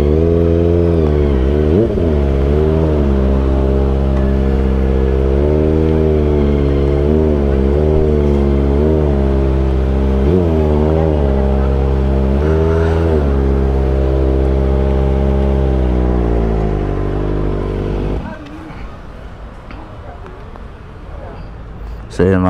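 Motorcycles idle and rev in a parking area, a loud, close engine drone rising and falling in repeated throttle blips before dropping away near the end.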